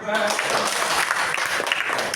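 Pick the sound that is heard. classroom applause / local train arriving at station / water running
classroom applause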